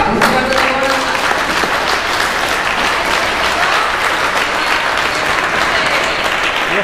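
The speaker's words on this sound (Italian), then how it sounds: "Veramente un applauso di cuore a tutti e due maestri." Loud, dense applause from an audience honoring two accordion maestros at a summer concert, sustained and even for the full duration without a break.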